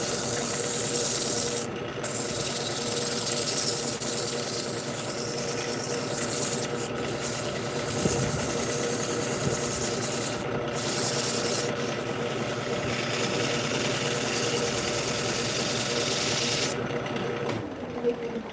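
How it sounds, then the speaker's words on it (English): Sandpaper rubbing against a large wood burl spinning on a lathe, a steady abrasive hiss over the motor's constant hum, fairly loud and close, with a few brief breaks where the paper lifts off. "You hit that with some sandpaper real quick"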